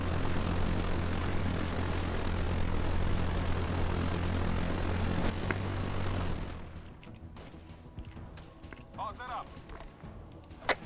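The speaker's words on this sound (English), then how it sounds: "Enemy drone taken off, enemy drone taken off." Aircraft engine noise from an enemy drone taking off in the Arma 3 video game, a steady loud propeller drone that cuts off sharply partway through, leaving quieter background sounds and faint speech.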